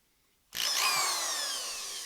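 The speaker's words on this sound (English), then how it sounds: "I use a little machine buffer. This is actually a DeWalt sander." A DeWalt sander fitted with a 3-inch pad and used as a polishing buffer starts abruptly after brief quiet, then runs with a loud, steady high whine close by.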